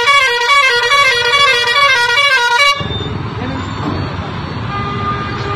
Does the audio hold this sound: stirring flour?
no